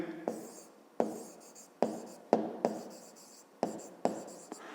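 Pen or chalk writing out a fifth-grade math solution on segment lengths: a steady run of scratchy strokes broken by about nine sharp taps as each new mark starts, close and fairly quiet, with no voice over it.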